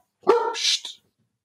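A single sharp dog bark with a short yelping tail, close and loud, alone with no talk, after which everything goes quiet.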